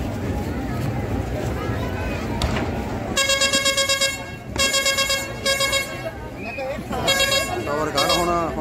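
Vehicle horns honking at a Sikh Nagar Kirtan procession in Lopon village, Punjab, 2022: several loud, sustained blasts in separate bursts over a busy crowd with people talking nearby.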